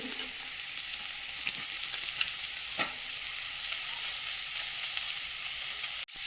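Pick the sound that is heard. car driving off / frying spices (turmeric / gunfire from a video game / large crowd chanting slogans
frying spices (turmeric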